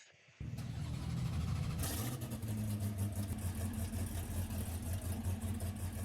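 In the video game Driving Empire, an F5 car engine cranks and fires up, then settles into a loud, close rumbling idle with a few light revs.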